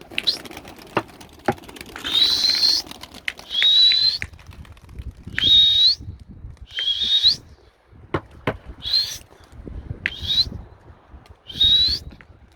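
Young pigeons flap their wings and sweep past repeatedly as they are chased into flight. Each pass brings a whooshing, whistling flutter that rises and fades at steady intervals.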